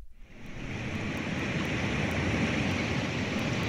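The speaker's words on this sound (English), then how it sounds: "Here's what a river sounds like." A recorded river track from a smart speaker, a broad rushing wash of flowing water that swells in within the first half second and then holds steady and fairly loud.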